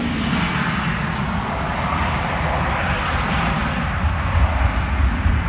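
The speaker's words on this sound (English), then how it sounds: "Nice big Gulfstream departing in the background there." A Gulfstream business jet departs at the Farnborough Air Show, a steady, loud jet roar filling the whole clip with a deep low rumble and broad hiss, no voices over it.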